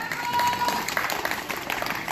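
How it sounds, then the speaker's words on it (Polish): A small group claps briefly during a cycling expedition gathering, with voices mixed in. The clapping is short and moderately loud. "Wielkie brawa dla Kamila!"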